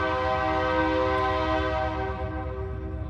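A train rumbles past with a loud, sustained horn blast, heard close and steady before it slowly begins to fade.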